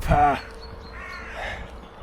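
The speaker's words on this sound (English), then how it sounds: "I'm enjoying the beautiful natural sounds of this walk, the birds" A single harsh crow caw sounds close and loud on a muddy Peak District walk, followed by quieter, fainter background calls.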